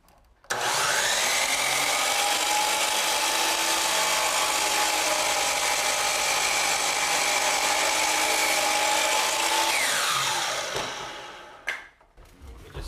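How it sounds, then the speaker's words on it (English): Power saw slicing through crown molding, spinning up sharply and holding a loud, steady whine across the whole cut before winding down and going quiet, with a clunk or two near the end. "Now I have to cut this molding on this side of the saw, so my 2 cuts will be parallel to each other."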